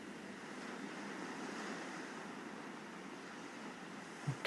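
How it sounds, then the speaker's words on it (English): Ocean waves washing back and forth, heard as a steady, soft broadband surf wash with a breezy hiss and no voices, continuous and unbroken apart from a small bump at the end. "listening to the sound of the waves moving back and forth onto the sea"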